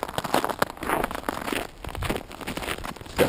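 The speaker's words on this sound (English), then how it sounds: "Snow crunching under my feet." Footsteps crunch through snow outside at about -5 degrees during an Ontario snowstorm, a series of close crisp crunches in an irregular walking rhythm, with no talk.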